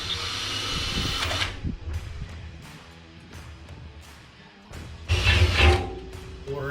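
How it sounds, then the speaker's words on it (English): Power drill spinning a drill bit into wood while building a DIY meat smoker, a close whirring motor in bursts that stops, quietens and then revs up loudly again. "I'm just gonna mark it with a drill bit."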